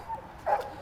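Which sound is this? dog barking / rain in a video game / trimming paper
dog barking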